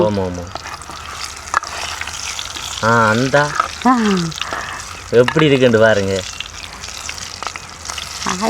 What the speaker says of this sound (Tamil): எண்ணெய் நல்லா கொதிக்குது, சலகலண்டு கொதிக்குது.